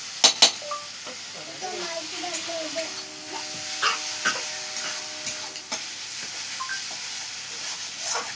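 Food cooks on a clay stove in a home kitchen, with steady sizzling and stirring, a few sharp clinks of a utensil against the pot near the start, and faint background voices.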